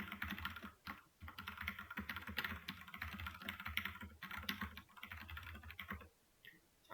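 Computer keyboard typing during a programming session, a steady run of quick, fairly quiet keystrokes with brief pauses, ending in a short gap.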